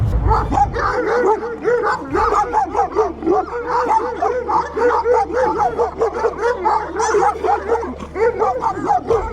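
A Turkish Akbash dog barks and yips continuously in rapid, repeated bursts, close and loud, with whiny, whimpering tones mixed in throughout.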